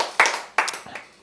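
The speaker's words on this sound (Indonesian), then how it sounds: "Tepuk tangan buat Tuhan Yesus." A church congregation claps in three distinct bursts, each sharp onset fading quickly, fairly close and with no talk over them.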